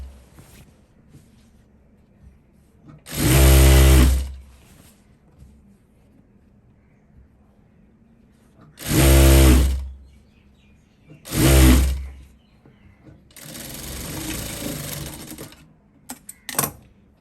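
A sewing machine stitches the hem of a kurti top in several short whirring runs of a few seconds each, separated by quiet pauses, close and fairly loud.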